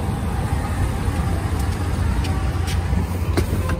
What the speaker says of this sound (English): I hear the V8 already.